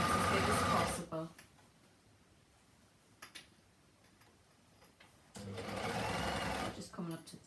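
An overlocker sews a drawstring bag in two loud rapid whirring bursts, one at the start and one near the end, with quieter handling clicks in the pause between.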